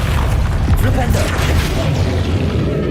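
Flipendo spell impacts in Hogwarts Legacy combat, heavy booming thumps blended into a continuous loud rumble of game noise, with voices present throughout.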